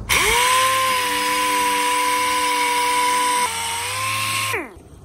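A power tool spins up and whines steadily with a sustained tone while grinding down the edge lip of a broken wooden chair, close and loud, dipping briefly under load before winding down.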